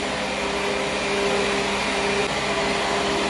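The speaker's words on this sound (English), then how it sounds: "And then whisk for the last time." Electric mixer whisking cake batter for cookies and cream cake, a steady close motor whir with a faint tonal hum, continuous and unbroken with no talk.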